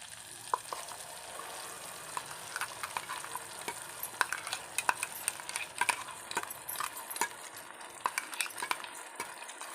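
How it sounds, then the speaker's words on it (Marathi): Ground masala paste and roasted tomato are stirred in a hot pan for a Maharashtrian kata amti, with a spoon scraping and clinking again and again over a low, steady sizzle. No one speaks. "आता आपण यात मिक्सरला वाटलेला मसाला घालूया"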